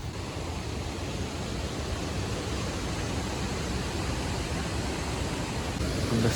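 Keralamkundu waterfall in Kerala during the monsoon pours in a constant broadband rush, steady and enveloping from start to finish with no pauses.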